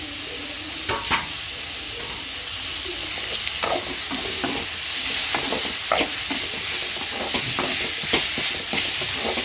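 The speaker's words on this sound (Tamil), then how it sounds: "நல்லா தக்காளி வதங்கட்டும்." Chopped tomatoes sizzle and fry in a pan for spicy vegetable Maggi, a steady close hiss broken by repeated scraping stirs of a spoon, with no talking.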